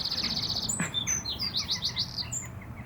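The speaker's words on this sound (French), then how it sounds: "Pas se taire cet oiseau." Small bird chirps in clear, repeated high tweets, with a rapid burst of several quick calls midway, close and fairly loud over a quiet indoor background with no talking.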